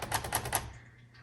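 A 1956 Royal Quiet Deluxe typewriter clacks four times in quick succession as its backspace is tested, the keys sounding close and sharp before falling quiet.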